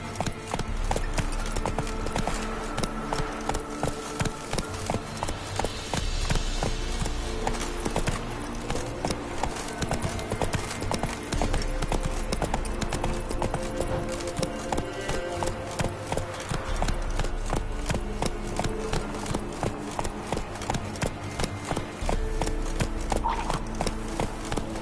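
Hooves of the horse Roach pound in a rapid, continuous galloping rhythm in The Witcher video game, loud and close, with game ambience underneath.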